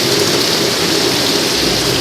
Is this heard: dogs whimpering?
no